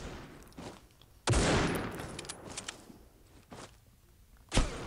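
Gunfire in the mobile shooter Critical Ops, with a sharp loud burst of shots followed by scattered quieter shots and a final crack near the end, over faint game ambience.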